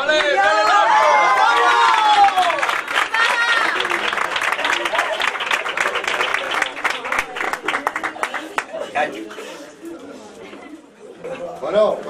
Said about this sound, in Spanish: Un aplauso, Lara.